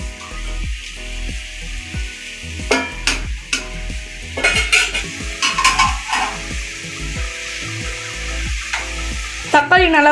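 Tomatoes sautéing in a pan for duck gravy, a steady sizzle with repeated scraping strokes of a ladle stirring and clinking against the cookware at close range.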